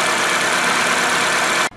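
A 2008 Toyota Corolla engine idles steadily after an ignition coil replacement, a loud, close, broadband mechanical hum that holds even throughout before cutting off at the end.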